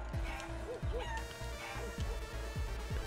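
Chicken clucking from the video game Guacamelee, a string of short rhythmic clucks and squawks repeating over game music, fairly close and steady.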